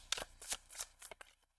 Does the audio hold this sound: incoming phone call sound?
no